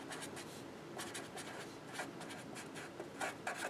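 Pen writing out an algebra equation by hand, a close, faint, continuous scratchy rub broken into short strokes and pauses, with no one speaking.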